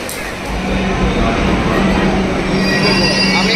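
A Kolkata metro train runs on its rails, a loud close rumble that swells as it gathers speed, with high metallic wheel squeal and muffled voices underneath.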